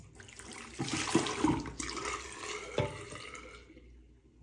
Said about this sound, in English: I'm just going to pour it down the sink.